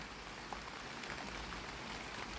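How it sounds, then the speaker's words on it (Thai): Rain falling outdoors over a vegetable garden, a faint, even hiss of drops with no voices, steady for a couple of seconds. "ฝนเริ่มลงเม็ดนาแล้วเด้อค่ะ"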